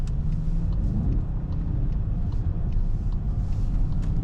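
A Volkswagen MK8 GTI drives through snow in eco mode, giving a steady, loud low engine and road rumble with a mild rise in revs, heard close from inside the car.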